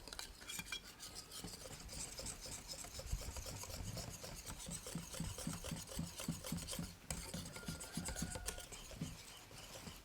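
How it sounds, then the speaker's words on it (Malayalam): Gram flour batter for dhokla is mixed in a bowl until free of lumps, a quick rhythmic series of soft scraping, rasping strokes, fairly quiet and close, with no voices. "കട്ടയില്ലാതെ നല്ല രീതിയിൽ നമുക്ക് മിക്സ് ചെയ്തെടുക്കണം."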